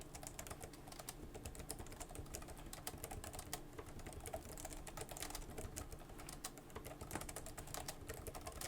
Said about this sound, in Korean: 타이핑 사운드는 10초만 잠깐 들려드릴게요